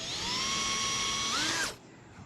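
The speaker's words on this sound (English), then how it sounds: "I'm just going to drill on an angle here." A power drill bores into a kitchen countertop install at an angle, a steady loud whine that holds pitch, rises slightly near the end, then cuts off abruptly to quiet.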